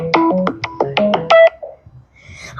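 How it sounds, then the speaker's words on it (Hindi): A telephone call is placed and connects, a quick run of loud tonal dialing beeps at varied pitches followed by a softer tone and faint crackle, close and alone without talking. "लग रहा है फोन"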